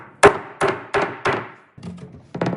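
Six gentle hammer taps driving pins into a wooden mitre shooting board, each a crisp knock with a short ringing decay, spaced out unevenly with the last two close together.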